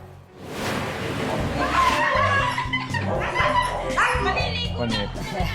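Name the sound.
husky dog whining and barking, refusing a bath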